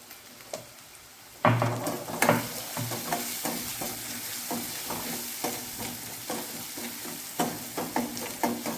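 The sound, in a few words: onions frying in a pan with spices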